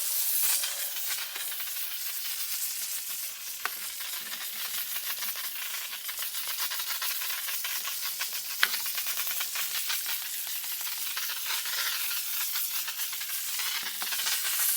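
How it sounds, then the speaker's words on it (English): A handheld steam cleaner hisses steadily over tile kitchen countertops and a sink, a continuous close, bright spray of steam with small sputters and no voices. "It's just so satisfying doing the steam cleaner."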